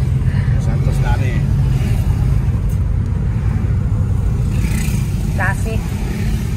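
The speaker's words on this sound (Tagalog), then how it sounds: "Traffic." Road traffic runs steadily as cars pass on a street under an overcast sky, a continuous low rumble with occasional engine swells, while people talk nearby throughout.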